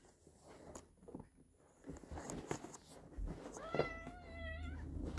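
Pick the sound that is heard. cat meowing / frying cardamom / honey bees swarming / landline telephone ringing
cat meowing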